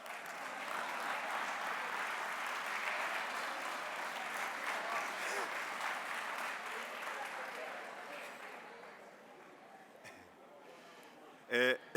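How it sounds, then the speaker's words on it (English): Sustained audience applause at an SMME conference, a dense wash of many hands clapping that holds steady for most of the stretch, then thins and fades toward the end, with a brief louder burst near the close. "May you give me a round of applause,"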